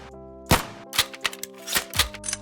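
Gun sound effects from the StickLife stick-figure game, with several sharp, punchy shots fired at a steady rhythm about half a second apart over a sustained low tonal hum.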